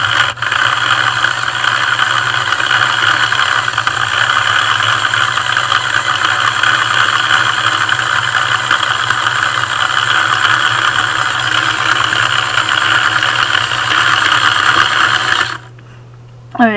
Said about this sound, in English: the shredder can shred going both ways, so you can turn it on to make it go